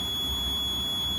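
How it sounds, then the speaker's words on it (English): A loud, steady electronic alarm buzzer sounds without a break as one flat, piercing tone, alone and close. "That is the alarm you hear every time you mention Big Ben."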